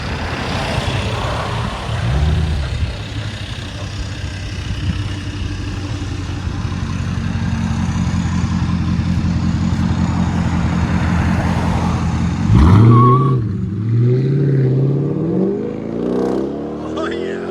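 A Dodge Durango R/T with a 5.7L HEMI V8 and aftermarket exhaust holds a loud steady drone, then its revs sweep up sharply near the end, with people talking over it.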